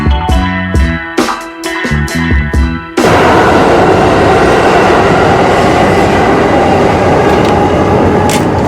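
A New York subway train rumbles beneath a metal-covered street vent, loud and continuous with clattering wheels, following a few seconds of rhythmic thumping music.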